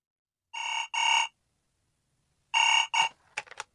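A telephone rings in two double bursts separated by a pause of roughly a second, loud and close, ending with a short clatter as the receiver is picked up.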